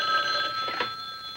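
A telephone bell rings in a 1973 television sitcom scene, a steady bright electric ring filling the short moment with no talk over it.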